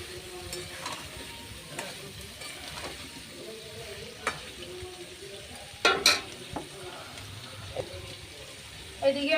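Potato pieces frying with salt and turmeric in a pan for aloo dum, a soft continuous sizzle broken by occasional spatula scrapes and louder stirring knocks, close up.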